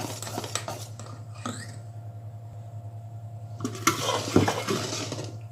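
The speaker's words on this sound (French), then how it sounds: "vous assurez bien que la pâte est bien mélangée partout grâce à la maryse" Cake batter for a lemon cake is stirred with a silicone spatula in a bowl, giving soft, intermittent scraping and squelching strokes close by over a steady low hum, with a louder clatter near the end.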